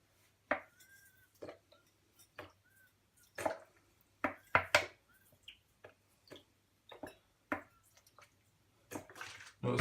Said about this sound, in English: I'm going to start washing the salt off with the vinegar.